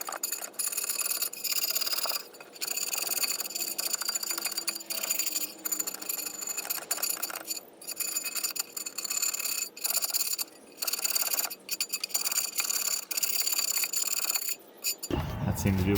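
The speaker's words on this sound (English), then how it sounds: "This is a paint scraper multi-tool. I'm going to see if this works any better." A paint scraper multi-tool scrapes caked-on residue off the bottom of a Chicago Hardware Foundry 8G cast iron skillet, harsh rasping strokes in quick repeated bursts with brief pauses, loud and close.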